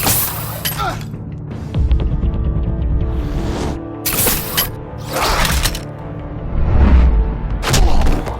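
Gunfire and combat noise from a Batman video game, with sharp bursts and crashes over a dense mechanical, clattering backdrop, loud throughout.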